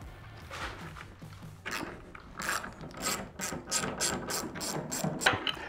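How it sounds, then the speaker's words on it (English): Hand ratchet loosening a bolt on a camper shell of a Toyota Tacoma truck, a run of rapid clicking strokes that grows busier and louder, close by. "So all we need to do is remove this bolt right here."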